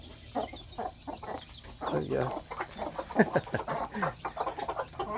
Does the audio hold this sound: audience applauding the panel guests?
no